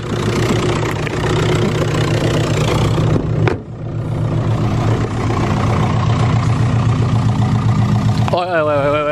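A diesel car engine idles close by with a steady, loud, throbbing rumble, briefly dipping midway before settling back to its even run.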